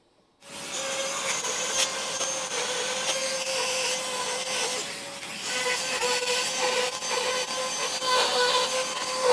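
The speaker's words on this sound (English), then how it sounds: "I'm going to come in now with my little Dremel and just open up all of those things, all of those little holes" A small Dremel rotary tool grinds steadily at holes in a boat cabin liner while replacing windows on a Contessa 32 sailboat, giving a continuous close whine with rasping texture that rises and dips slightly as it works.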